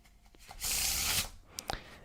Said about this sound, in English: You could have them shuffle it as much as they like.